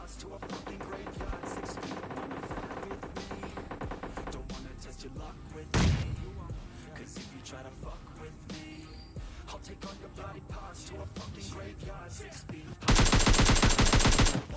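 Rapid gunfire bursts in the PUBG Mobile Lite battle-royale shooter while rushing into a building, mixed with game music and effects, with a loud sharp burst near the end.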